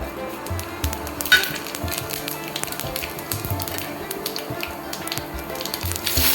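Cumin seeds sizzling in hot oil in a kadhai for dhaba-style paneer masala, a soft continuous crackle and hiss with a few brief pops and clinks, fairly quiet and steady.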